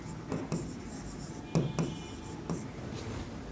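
A pen scratches across paper in short strokes, with a few sharper taps and scrapes at irregular intervals, heard close and fairly quiet against a faint steady hum.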